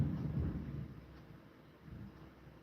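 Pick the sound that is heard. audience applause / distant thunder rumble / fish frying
distant thunder rumble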